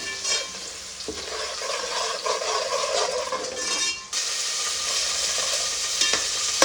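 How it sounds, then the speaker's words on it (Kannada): Food sizzles and fries in a pan with red sauce while a utensil stirs and scrapes it, close and busy, with a brief dip and clatter partway through before the steady frying resumes. "ಗೋಲ್ಡನ್ ಬ್ರೌನ್ ಬರೋ ತನಕ ಅಂದರೆ ಸ್ವಲ್ಪ ರೆಡಿಶ್ ಆಗೋ ತನಕ ಫ್ರೈ ಮಾಡ್ಕೋಬೇಕು"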